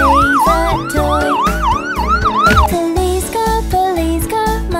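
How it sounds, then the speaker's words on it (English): A looping police car siren wails up and down in steady cycles inside a children's nursery song, loud over a bouncy musical backing, with no voices during it. "Police car, I love my police car."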